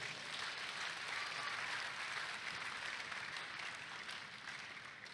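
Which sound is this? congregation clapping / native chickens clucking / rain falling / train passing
congregation clapping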